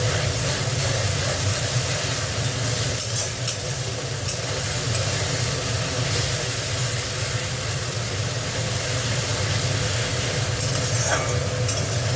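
Ginger garlic paste frying with already fried onions in a pan, a steady close sizzle and hiss with occasional stirring scrapes, continuous and alone without talk.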